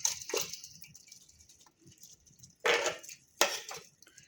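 Metal cooking pots and utensils clank while vegetable biriyani is moved into a cooking pot, a few sharp knocks and scrapes separated by quiet stretches, close and fairly soft.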